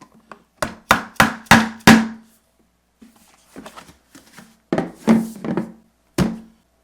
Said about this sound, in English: Put it together by simply hammering in 4 legs.